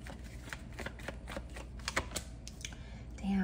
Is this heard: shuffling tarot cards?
yes